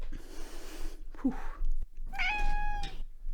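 A cat meows twice nearby, a short cry followed by a longer, rising call, heard alone in a quiet room.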